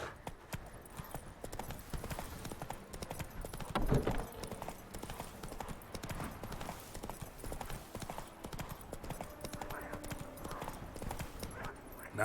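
Horse hooves galloping in the video game The Witcher 3, a steady, rapid clip-clop under a busy game soundscape with faint ambient music and an occasional snort, no speech.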